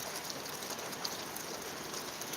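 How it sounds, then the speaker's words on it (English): Steady rain falling outside around a porch, an even, continuous hiss of drops on surfaces with no voices, close and constant throughout. "I should just do live streams out here when it's raining."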